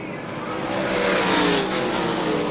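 Stock cars roar past in a dense pack during a 300-lap oval race, engines droning loudly and continuously with a swelling, sustained rush and no voices.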